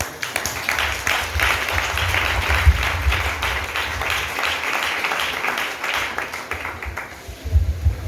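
A church congregation applauds together, a steady sustained wash of clapping from many hands, with a brief louder swell near the end.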